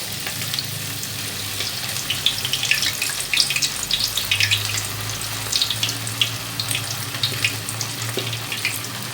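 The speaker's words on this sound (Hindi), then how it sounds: "मीडियम से भी कम फ्लेम में आपको इसको फ्राई करना है" Chicken pieces fry in oil in a kadai over a low flame for masala chicken, giving a continuous bubbling sizzle with crackly spatter throughout and a low steady hum underneath, with no voices.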